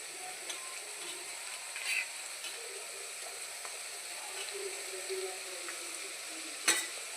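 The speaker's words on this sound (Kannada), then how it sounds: "ಇದನ್ನು ನೀಟಾಗಿ ಫ್ರೈ ಮಾಡಿಕೊಡ್ಬೇಕು" Carrots and beans frying in a pan while chapati noodles are made, a soft steady sizzle throughout with a few light stirring scrapes and one sharper clink near the end.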